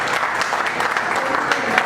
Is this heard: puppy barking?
no